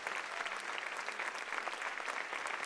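Church congregation applauding during a sermon, a steady dense wash of many hands clapping at a moderate, slightly distant level with no voices over it.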